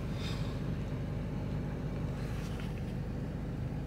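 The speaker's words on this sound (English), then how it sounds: "Traffic." Road traffic forms a faint, steady low rumble with no single vehicle standing out as it passes.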